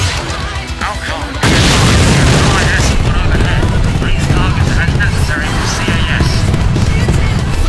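Missile explosions in the space combat game Starfighters: Raven Station, a sudden loud blast after a quieter stretch, then continuous rumbling booms and crackling detonations layered with game audio and radio-style voices.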